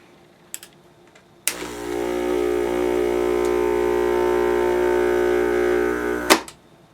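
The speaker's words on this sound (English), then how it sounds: "I am now going to vacuum seal it" A vacuum sealer drawing air out of a bag fitted with a snorkel attachment and sealing it around a packet of amoxicillin: a steady mechanical pump hum runs about five seconds, then cuts off sharply with a click, alone without talk.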